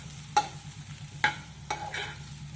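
Potato and brinjal pieces frying in a pan are stirred with three or four distinct metallic spatula scrapes over a low, steady sizzle, close and moderately quiet, with no voices.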